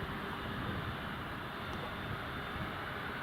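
An airliner taxiing at Newcastle International Airport, heard from a distance as a steady, even jet engine rumble and whine, continuous with no voices.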